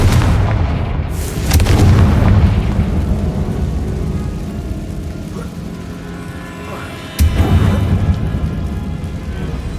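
A fire-blast spell explodes in the Hogwarts Legacy video game, with deep booming blasts near the start and again later, over continuous game ambience.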